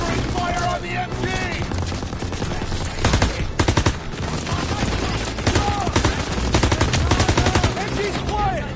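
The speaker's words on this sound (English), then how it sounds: "Lay down fire on that MG!" Machine gun fire in the Call of Duty WWII battle at Hill 493 during the Battle of the Bulge, with dense rattling bursts and sustained volleys that are loud and close, mixed with shouted voices from the game.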